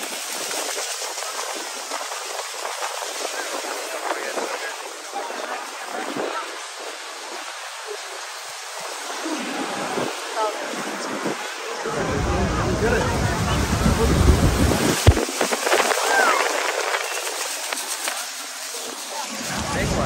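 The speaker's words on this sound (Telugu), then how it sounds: "ఇంకా నా మీద కూడా నయగరా ఫాల్స్ వాటర్ అంతా పడుతుంది" Niagara Falls pours and sprays close by in a steady roar of rushing water, with wind buffeting the microphone and crowd chatter plus a nearby voice talking over it.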